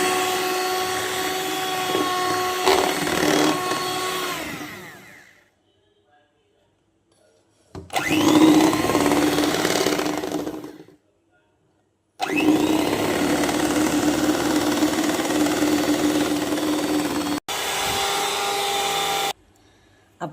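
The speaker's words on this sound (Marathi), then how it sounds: "जोवर तेल गरम होत आहे तोवर आपण आपलं सारण फेटून घेऊया" Dahi vada batter being beaten for soft, fluffy fritters, heard as three loud, steady whirring bursts of about five seconds each, separated by short silences, with no talk.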